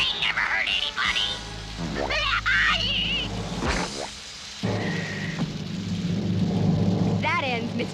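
Rain and thunder in an animated cartoon: a rumbling storm with steady rain noise mixed with cartoon sound effects and zany swooping tones, running loud throughout the scene.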